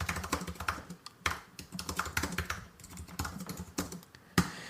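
Rapid, uneven clatter of typing on a computer keyboard, close and continuous, with brief pauses between bursts of keystrokes.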